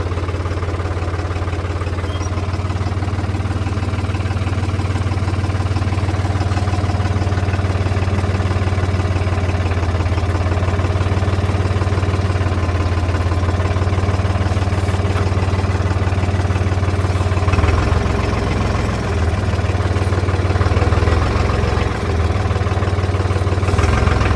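Lamborghini Crono 55 tractor engine idling steadily in its lowest gear, a continuous low diesel rumble with light mechanical clatter, close and fairly loud throughout, with a brief change in tone near the end.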